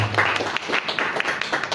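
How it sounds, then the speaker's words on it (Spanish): Audience applause after a talk at a Bolivian rock and metal studies congress, a short steady burst of many hands clapping, fairly close and continuous with no voices over it. "Un aplauso, por favor."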